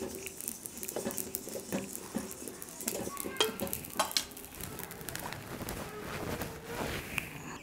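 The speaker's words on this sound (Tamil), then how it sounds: "அடுத்தது சீரகம் 100 கிராம் எடுத்துருக்கோம், அதையும் வறுத்து எடுத்துக்கலாம். சீரகம் போட்டோன்னே வறுபட்டுரும்." Cumin seeds dry-roast in a pan for paruppu podi, a busy close patter of small crackles and ticks with irregular scraping from stirring throughout.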